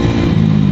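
A Honda Vario 110 carbureted scooter with a stock AHM racing exhaust revs briefly and loudly up close, a throaty low drone with a pulsing, rough idle toward the end.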